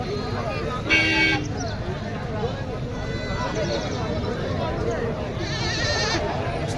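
Goats bleat now and then over a dense crowd murmur of people talking at a crowded livestock market, with a vehicle horn sounding briefly in the busy outdoor din.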